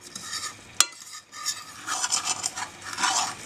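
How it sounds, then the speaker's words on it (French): A spoon stirs semolina with olive oil in a pan, scraping and sizzling close up with one sharp clink early on, a busy continuous stir with no voices. "Vous mélangez."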